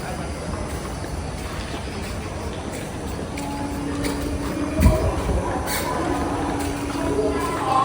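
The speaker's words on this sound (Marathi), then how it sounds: "हा आपला कणकवली रेल्वे स्टेशन" A train at the Kankavli railway station platform, with a low rumbling hum, a brief louder thump near the middle and faint squeaks over steady platform noise, with a voice briefly audible.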